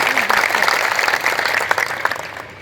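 A village crowd at a panchayat gathering applauds loudly in a dense burst of clapping that gradually fades, with voices mixed in underneath.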